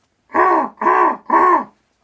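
A human voice imitates a crow, giving three loud, evenly spaced caws, each a harsh, throaty burst with brief gaps between them.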